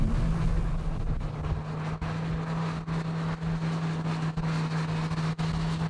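A Hyundai Veloster's small engine drones steadily at high revs above 5,000 RPM, a buzzing, strained whine held throughout with faint wind rumble underneath.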